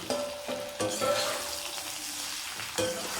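Raw banana pieces fry in a pan for a Tamil oil stir-fry, giving a steady close sizzle broken by a few sharp clinks of stirring.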